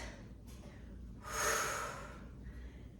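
A single forceful exhale through the nose and mouth during a Pilates mat ab exercise, a brief breathy rush in the middle of a quiet room, with fainter breaths around it.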